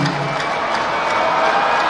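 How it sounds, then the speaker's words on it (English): An audience at a state government Vision 2050 event in Enugu applauds: loud, steady clapping and crowd noise that fills the whole moment without a break. "Do I hear your applause? Yes, I do."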